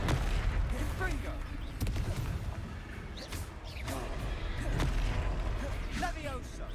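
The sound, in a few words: Confringo spell blasts in a wizarding video game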